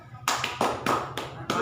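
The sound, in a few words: class doing the "tepuk mantul" clapping chant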